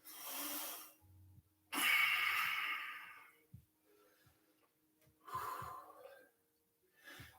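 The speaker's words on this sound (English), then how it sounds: "A few more big breaths here." Slow, deep breathing held during a standing yoga pose, several long airy inhales and exhales spaced a few seconds apart, close and fairly soft with quiet pauses between breaths.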